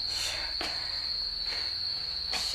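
Crickets chirping near a public bathroom, a loud, continuous high-pitched trill with a few brief louder bursts and soft background rustle, no voices.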